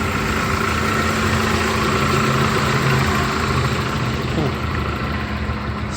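A 1995 Honda Accord engine idling unevenly, a steady low rumble with a slight wavering hum, close and continuous, with no other sounds over it.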